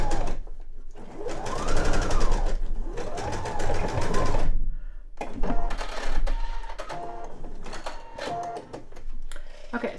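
A domestic sewing machine stitching the top of an eye pillow closed, its motor running in steady bursts of rapid needle chatter with brief pauses between runs, loud and close, without talking.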